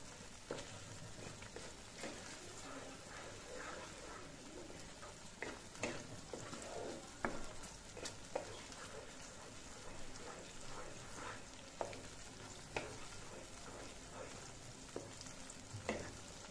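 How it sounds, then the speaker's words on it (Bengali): Spices and a bay leaf frying in hot oil for a roast dish, a steady dense sizzle throughout with occasional stirring scrapes and clicks, close and continuous with no talking. "আর এখানে হচ্ছে সবগুলো মশলা দিয়ে নিচ্ছি, দিয়ে এখন হচ্ছে মোটামুটি একটু কষিয়ে নেব।"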